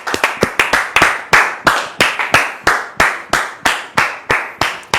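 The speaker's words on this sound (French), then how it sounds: "Sous vos applaudissements." Audience members clapping to welcome a guest onto a French-language talk show set, a close, loud series of sharp claps in a steady rhythm with no talking.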